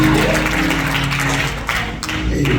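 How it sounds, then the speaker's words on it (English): A church congregation claps during a worship service at a Baptist church, with the clapping continuous and moderately loud over sustained organ or music tones underneath. "Get the Lord a hand clap."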